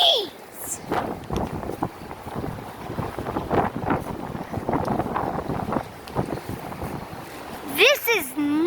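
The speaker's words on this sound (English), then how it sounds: "The wind is literally at its max." Strong gusting wind during a March windstorm in Ronkonkoma, New York buffets the microphone with a continuous roar that swells and dips, and a person talks over it while a brief tonal chirp sounds near the end.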